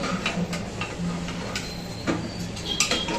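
Washed steel pots and utensils being stacked away in a home kitchen, a string of light metallic clinks and knocks at irregular intervals, close and fairly soft.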